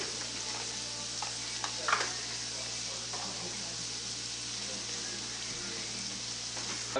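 A steady, close sizzle of gnocchi frying in a hot pan over medium-high heat, with occasional soft pops and scrapes.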